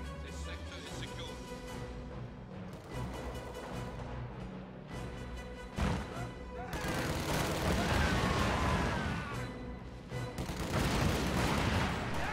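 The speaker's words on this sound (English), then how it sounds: "We are under fire!" Dense gunfire and machine-gun bursts with booming artillery blasts from a World War II strategy game battle involving Soviet forces, sustained and loud throughout, with a voice speaking in places.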